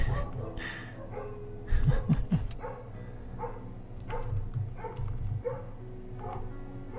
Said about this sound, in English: It's always great when you have a really loud dog that lives right next door, isn't it? He just keeps barking.